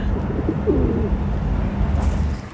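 Pigeons coo in the port city of Vladivostok, a couple of soft low throaty calls over steady city traffic rumble.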